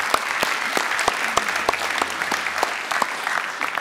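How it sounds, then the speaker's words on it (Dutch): Studio audience at a Dutch late-night tech talk show claps steadily for nearly four seconds, a dense, lively wash of hand claps with sharp individual slaps standing out, fairly close and without talk. "Goed, ja, applaus."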